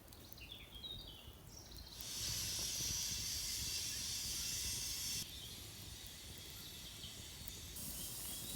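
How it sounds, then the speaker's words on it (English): Water boils in a pot at a woodland wild camp, with a loud, steady hiss and rushing bubbling that swells partway through and continues without talk. "I think that's boiling now."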